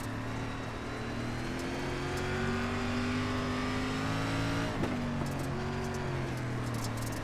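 An SRX series race car laps Fairbury Speedway in iRacing, its engine droning loudly and continuously at high revs, with a brief pitch dip midway and a faint tire squeal.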